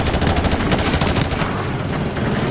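Rapid automatic gunfire from a rifle with an EOTech sight in Call of Duty, a dense continuous burst of shots across the whole stretch, loud and close, with no talking.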